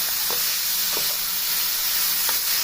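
A carrot and jaggery sugar mixture is stirred in a pan over a low flame, giving a steady soft sizzle with a few faint spoon scrapes, close and alone with no talk.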